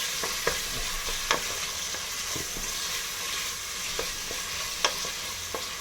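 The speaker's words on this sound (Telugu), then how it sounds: "కొంచెం మూత పెట్టుకొని బాగా వేయించుకుందాం ఎర్రగడ్డలు" Thinly sliced onions fry in oil for an Andhra-style mutton curry, sizzling steadily up close while a spoon scrapes and taps the pan every second or so.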